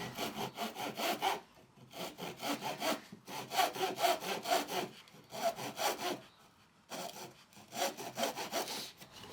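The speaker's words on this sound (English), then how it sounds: "So we're going to cut a little lap, half lap here." Hand saw cutting a half lap joint in wood, rhythmic push and pull strokes in five or six bursts separated by short pauses, close and fairly quiet with no talking.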